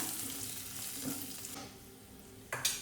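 Coriander powder is stirred into sambar in a pan, giving a soft, continuous sizzle and wet stirring noise with a brief scrape near the end and no talking.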